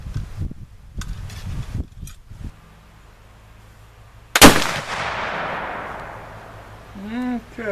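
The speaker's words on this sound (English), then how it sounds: "I fired 3 shots, and the 3 shots are within 2 inches of each other." A single loud shot from a Traditions Strikerfire Vortek Northwest muzzleloader booms and rolls off in a long echoing tail, after a few short bursts of nearby talk.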